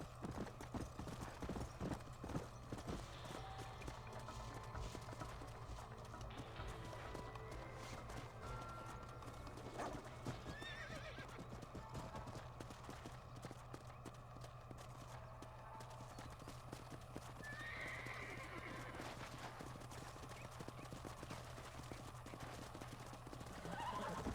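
Horse hooves clip-clop steadily with occasional neighs and whinnies, ridden through the Red Dead Redemption game world, over a constant low ambient hum and background game sounds.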